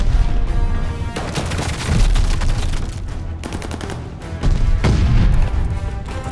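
Call of Duty: Vanguard search and destroy match: dense, loud bursts of rapid gunfire and heavy booms roll almost continuously, with two swelling blasts from a thrown grenade rising out of the firefight.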